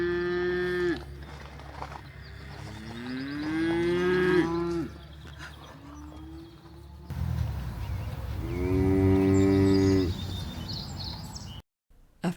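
Highland cattle on a farm in the Charlevoix region of Quebec give several long, loud, close moos with drawn-out low tones, separated by a quieter pause.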